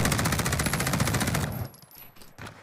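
A weapon firing a rapid, loud automatic burst in a first-person shooter game for about one and a half seconds, then cutting off into quieter in-game sounds.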